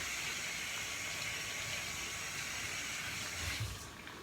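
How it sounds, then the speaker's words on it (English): Running tap water over hands being washed at a kitchen sink while cooking, a steady close hiss and splash throughout that drops away near the end. "Let me wash my hands."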